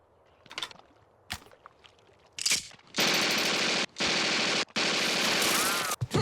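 Gunfire: after a few faint scattered knocks, loud sustained bursts of rapid automatic fire roar in long stretches separated by short pauses.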